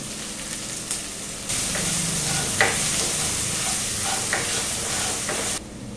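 Onions with a pinch of salt fry over low heat in a pan, giving a steady, close sizzle with occasional scrapes and stirring taps, no voices.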